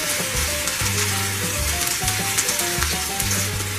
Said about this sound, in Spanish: Dejamos que se dore del otro lado y la sacamos para que se escurra.